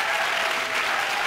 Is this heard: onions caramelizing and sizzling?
no